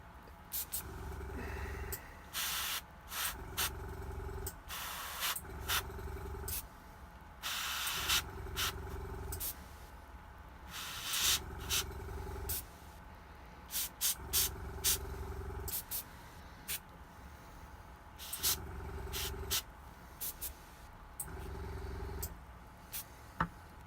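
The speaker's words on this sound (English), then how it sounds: "Love airbrushing with inks." An airbrush spraying ink onto a miniature figure comes in short repeated hissing bursts separated by pauses, close and fairly loud, with no talking.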